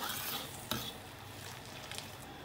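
Braising sauce for soft-shell turtle with quail eggs bubbling and reducing over high heat, a steady close sizzle with soft stirring scrapes and one sharp clink of utensil against the pot.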